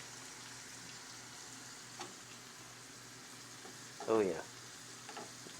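Potatoes, not parboiled, frying in hot oil give off a steady, close hiss and crackle that runs throughout, with a few faint clinks and a short spoken remark from a man partway through.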